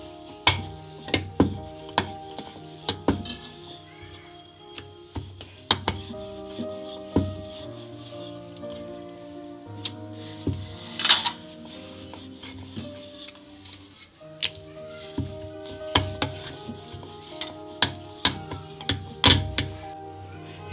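A knife cuts through rolled samosa dough on a board in a home kitchen, with repeated sharp taps and scraping rubs in an uneven rhythm. The sounds are close and moderately loud, with no talking.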